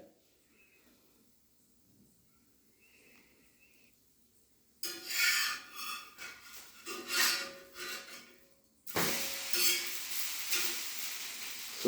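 A dosa cooking on a pan over low heat, near-silence at first, then a soft close sizzle and scraping that grows in bursts, ending in a steadier, louder sizzle.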